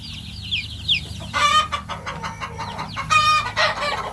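Baby chicks huddled under a heat lamp cluck and peep in short bursts, several overlapping calls close by, with a steady low hum from the brooder setting underneath.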